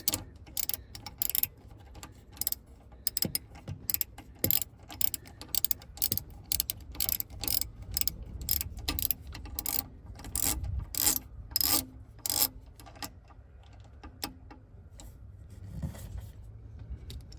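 Socket wrench ratcheting on the starter bolts of a 1994 Four Winns Freedom inboard boat, a cramped engine bay; bursts of rapid, close metallic clicking repeat through most of the stretch, then thin out toward the end.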